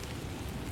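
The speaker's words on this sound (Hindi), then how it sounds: "माफ करना, आज बहुत तेज बारिश हो रही थी," Heavy rain falls as a steady, dense wash of noise with no distinct drops, continuous and fairly close, and no voices.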